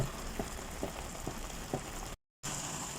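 Chicken tocino sauce simmering and reducing in a pan, giving a soft, steady bubbling sizzle with faint pops and a brief dropout near the end.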